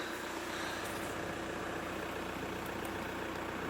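A diesel vehicle engine on a farm chugs in a steady, continuous low rumble, close and loud, holding an even idle-like beat throughout without any voices.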